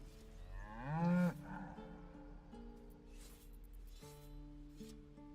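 A cow lets out one loud, deep moo that swells and cuts off, followed by quieter low droning tones in a game scene.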